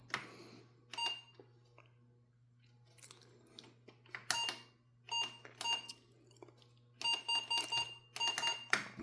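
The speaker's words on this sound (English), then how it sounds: "Control and G makes the bell." An Apple IIe computer sounds its Control-G bell, sharp short beeps that come singly and then in quick clusters, mixed with soft keyboard clicks in a quiet room.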